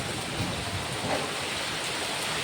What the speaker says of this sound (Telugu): వర్షం స్టార్ట్ అయిపోయి వర్షం ఎలా వచ్చేస్తుందో చూడండి